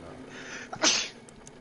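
A single sharp sneeze bursts out close by, brief and loud, after a breathy intake.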